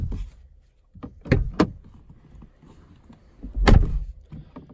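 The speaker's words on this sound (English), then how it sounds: "Let's hear the closing sound." Rear door of a 2019 Mercedes A-Class AMG Line sedan closing while the car sits on a slight angle: a couple of close, sharp clunks, then one heavier, solid thud later, with no talking.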